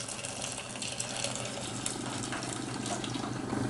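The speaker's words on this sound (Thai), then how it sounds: "เทหน้าลงในกระชอน เพื่อแยก" Homemade cream cheese curds and whey poured into a sieve, a steady, close, continuous watery gush and splash that holds for the whole stretch without pause.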